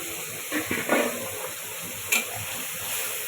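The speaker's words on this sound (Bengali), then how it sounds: "মশলাটা আমার কষানো হয়ে গেছে এখন আমি দিচ্ছি বাইন মাছ বাইন মাছটা দিয়ে দিব" Baim eel pieces hit a pan of hot fried spice paste in a home kitchen, giving a steady close sizzle and hiss with a few soft stirring scrapes and short bursts of spatter.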